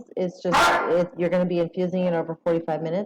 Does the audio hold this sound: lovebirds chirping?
no